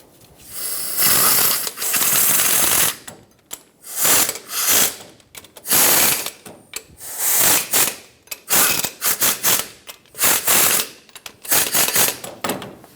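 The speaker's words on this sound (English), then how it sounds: "I already snugged them in a cross pattern, so I'm just going a circle to tighten them." A ratchet clicks rapidly in repeated short bursts while tightening the harmonic balancer bolts on a 1995-2004 Toyota Tacoma 2.4L four-cylinder, loud and close with brief pauses between strokes.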